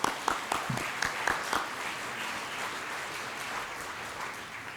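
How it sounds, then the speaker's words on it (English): Applause from an audience at an applied art and design award presentation ceremony, a few sharp claps opening into a sustained, fairly distant wash of clapping that carries on steadily with no voices over it. "Let's give them a round of applause."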